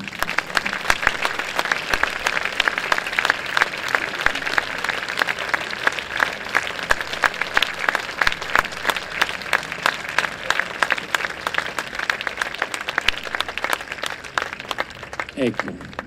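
A live audience applauds at a public talk for three speakers, with dense, sustained clapping that carries on steadily for the full stretch before a voice begins at the end.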